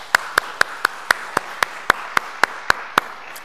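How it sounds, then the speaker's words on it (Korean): A single person's sharp, evenly spaced hand claps, about a dozen in a steady rhythm, heard at a church service. The claps are close and crisp over a quiet room tone, with no talking. "이 모든 일들을 순적하게 이루어주신 하나님께 감사의 박수 올려드리겠습니다"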